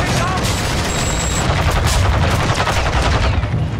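Dense, loud gunfire in Call of Duty Modern Warfare, with rapid automatic bursts running almost continuously and close up, leaving no gaps of quiet.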